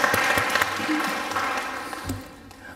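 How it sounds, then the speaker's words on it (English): Applause from a church congregation at a Christmas carol sing in a Lutheran church, steady clapping for a few seconds with some voices mixed in. "Nothing wrong with more applause."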